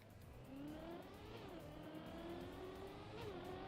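Trackmania snow car engine droning steadily throughout, its pitch rising and falling as the car accelerates and shifts, loud and close with a constant synthetic racing-game tone.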